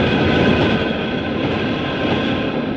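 A metro train runs with a steady, loud rumble and faint rhythmic rail clatter, heard from inside the carriage for about three seconds with no voices.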